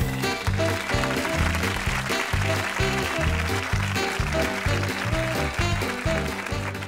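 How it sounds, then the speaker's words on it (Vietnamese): Studio audience applause on a Vietnamese TV dating show welcoming a married couple, joined by steady rhythmic music; continuous and fairly loud throughout. "xin mời quý vị dành một tràng pháo tay để đón chào cặp vợ chồng đầu tiên"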